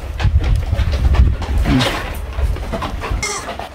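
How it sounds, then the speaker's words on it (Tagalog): Hens on a goat farm cluck and squawk close by in a busy, continuous flurry of calls over a rumbling farmyard background, with no one talking. "Ito po ang kanilang mga inahin."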